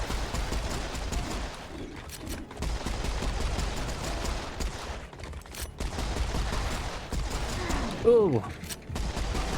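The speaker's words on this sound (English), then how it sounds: "Who knew dual pistols would be surprisingly effective against skeletons?" Rapid volleys of dual pistols fire at skeletons in Serious Sam, a steady rattle of close shots running through the clip, while a voice briefly exclaims near the end.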